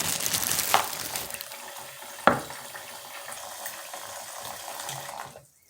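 Water runs from a tap into a basin in a steady broadband rush, close and moderately loud, with a couple of sharp clunks before it cuts off abruptly at the end.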